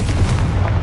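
A deep, booming blast from the Confringo spell erupts in a Harry Potter video game, one dense, loud explosion filling the short moment.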